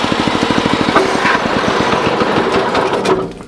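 A Bolens 1050 garden tractor's small engine runs at a fast steady idle, loud and close, with a rapid even chugging pulse and no talk over it.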